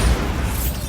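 A Bombarda spell blast in Hogwarts Legacy, a loud, dense rumbling burst with heavy low-end boom that fills the whole short moment without letting up.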